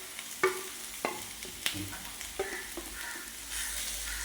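Potato cubes sauté with ground pepper and spices in a pan for samosa filling. A spatula knocks and scrapes at uneven intervals over a faint, steady sizzle that swells near the end. The sound is quiet and close, with no talking.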